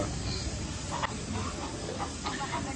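Fish curry with fish masala boils hard in a pot, steady hissing and bubbling, close and continuous, with a few faint clinks.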